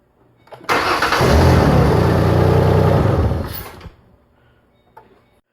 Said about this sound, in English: Now start the vehicle, run it for a couple of seconds, turn it off